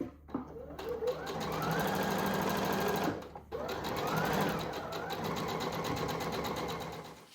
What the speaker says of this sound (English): you're going to go back and sew the 5 by 11-inch rectangles to the bottom of each of those